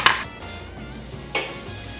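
Butter hisses softly in a hot cast iron pan, with two sharp scraping bursts of a utensil against the metal.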